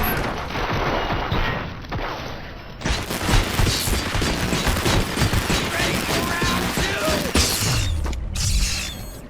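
Dense gunfire bursts and mechanical clatter from a firefight in the RoboCop: Rogue City video game, loud and continuous with rapid repeated shots and impacts throughout.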